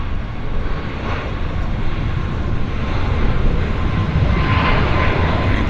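An Air North Boeing 737-800 airliner rolls for takeoff at Vancouver Airport, its jet engines producing a loud, continuous broadband roar that builds slightly and holds throughout, with no voices over it.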